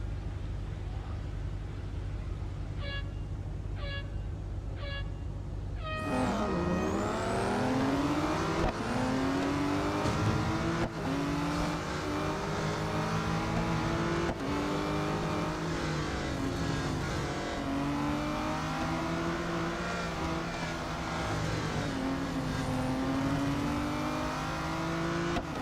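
Race cars in the Real Racing 3 video game lap the Melbourne circuit. A few short beeps come first, then a loud engine note kicks in and rises and falls continuously through gear changes, with a faint voice at times.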